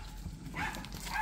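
Puppy at a grandmother's house in the countryside giving a couple of short, faint yips and barks close by over low background noise.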